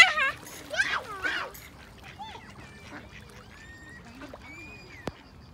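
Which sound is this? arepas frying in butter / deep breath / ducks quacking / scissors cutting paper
ducks quacking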